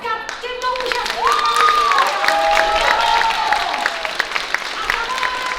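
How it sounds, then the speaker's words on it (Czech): A crowd claps and cheers continuously, with children's voices and a few whoops rising above the steady applause. "No a my zkusíme pořádně zatleskat těmto úžasným"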